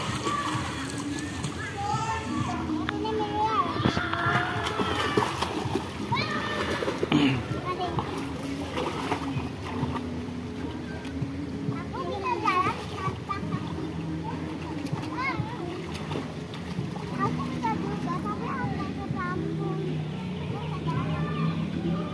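Children swim and play in a hotel pool in Bali, with water splashing and sloshing throughout. Kids and adults keep chattering over the splashes the whole time.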